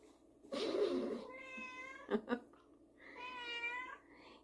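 A tortoiseshell-free house cat meows twice nearby in drawn-out calls, with a brief scuffle between them and a voice briefly heard at the start.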